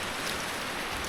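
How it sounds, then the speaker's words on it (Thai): Steady rain falling in a rural Lao or Thai village, a dense, even hiss with no breaks across the short moment and no voices. "ฝนตกนะทุกคนเนี่ย"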